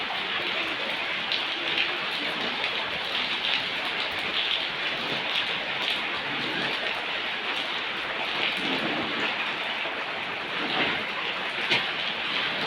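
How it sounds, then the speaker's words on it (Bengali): Steady rain falls without a break on a house roof through the night, a dense even hiss with scattered louder drops and no voices. "সারা রাত ধরে বৃষ্টি পড়ছে"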